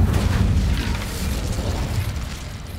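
A fire spell called Incendio is cast in the video game Hogwarts Legacy, giving a dense, low rumbling burst that roars steadily for a few seconds at close range, with no voices over it.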